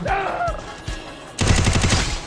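Rapid burst of gunfire in a video game, a fast rhythmic string of shots starting partway through and continuing loudly to the end, following a brief stretch of quieter game sounds.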